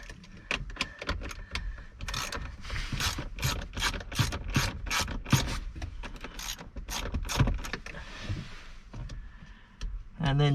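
A 10mm socket ratchet undoing head unit screws in a Landcruiser 70 Series dash, giving a close run of sharp rhythmic clicking bursts that repeats across the clip.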